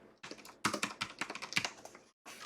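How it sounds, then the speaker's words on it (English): Quick, close typing on a computer keyboard, a run of crisp irregular keystrokes clustered together, then a brief pause before a few more taps; no voices. "I'm going to go ahead and type that in right here"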